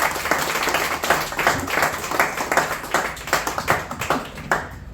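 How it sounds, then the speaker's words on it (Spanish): Church congregation clapping in rhythmic bursts of hands, fairly close and moderately loud, with a pulsing beat through the passage and faint voices mixed in. "quisiera que le diéramos un aplauso al Señor"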